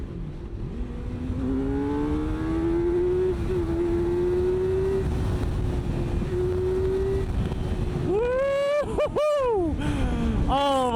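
A 2026 Kawasaki Ninja ZX-6R motorcycle engine holds a steady high-pitched drone while riding, then revs sharply up and down in quick bursts near the end, with wind rush throughout.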